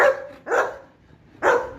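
A dog barks three times close by, short sharp barks spaced about half a second apart with brief pauses between.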